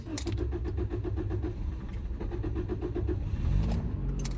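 A Volkswagen Golf engine turns over and catches: a rapid, rhythmic cranking pulse for several seconds, then a steady idle rumble, loud and close with no talking.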